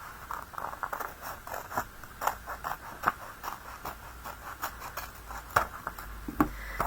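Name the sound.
scissors cutting cardstock for a slimline card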